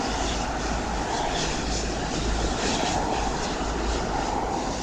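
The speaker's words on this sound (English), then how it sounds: "Registration is 9V-SQN a 777-200ER, delivered to Singapore Airlines in July of" A Singapore Airlines Boeing 777-200ER jet airliner at Wellington Airport gives a steady, fairly distant engine roar that holds evenly throughout.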